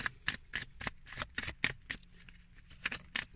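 Tarot cards being handled and laid out one after another, giving a string of quick, crisp card snaps and slides at close range with short pauses between them.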